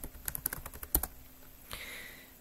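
Fast typing on a computer keyboard: a quick burst of sharp, close key clicks, then a short pause and a few softer taps, with no voice over it.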